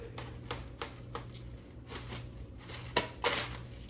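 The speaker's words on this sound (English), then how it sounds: "we're gonna go ahead and get the plastic wrap, and I'm gonna cut 1 piece" Plastic wrap is pulled and cut for a chocolate-covered strawberry bouquet, giving a series of close, crisp crinkles and sharp tearing snaps.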